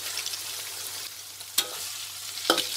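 Pumpkin stir-fries in a pan for a pumpkin and egg dish, with a soft steady sizzle and two sharp spatula scrapes against the pan, close and fairly quiet.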